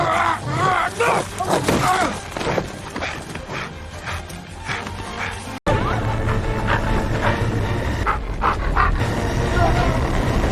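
A police K9 dog growls and barks in a tense struggle aboard a runaway train, loud and close, with rumbling train noise throughout and people shouting over it.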